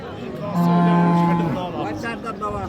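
A Friesian cow gives one loud, close moo lasting about a second, with farm background noise and brief voices around it.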